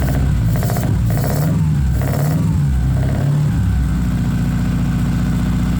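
A Wangan-style Datsun 280Z's engine runs loud and close, with several rising revs in the first couple of seconds over a steady idle rumble, settling into an even, throbbing idle.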